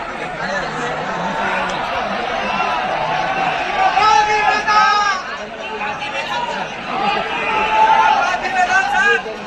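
A large crowd of students chatters outside a packed seminar hall in Guwahati, a loud, continuous babble of many overlapping voices with occasional laughter close by.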